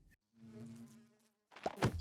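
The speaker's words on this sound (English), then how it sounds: "bees' nests and the bees are there" Bees buzz in Minecraft around their nests, a faint drawn-out drone followed by a louder, rougher burst of buzzing near the end.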